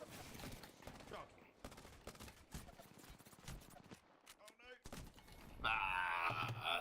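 Video game gunfire, rapid bursts and single shots at an irregular rhythm, moderately loud and close, mixed with a person talking throughout and a louder noisy burst near the end.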